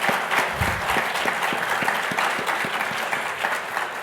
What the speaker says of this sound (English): give them a big round of applause for